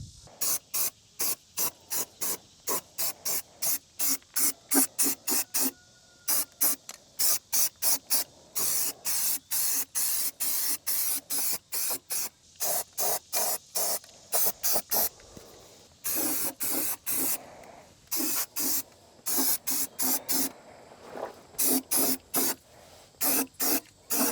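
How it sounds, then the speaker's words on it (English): A spray can of Rust-Oleum primer is used on rusted truck suspension parts, giving many short hissing bursts in quick succession with brief pauses between them, close and clear. "Running some Rust-Oleum primer."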